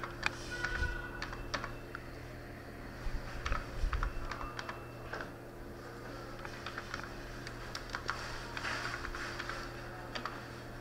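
Quiet, irregular clicking of keys as a password is typed on a computer keyboard, with short bursts of keystrokes separated by pauses over a faint steady hum.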